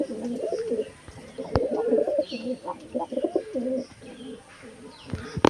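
Malwai pigeons cooing in a steady run of low, throaty, rolling coos close by, with a few faint chirps behind and sharp clicks near the start and end.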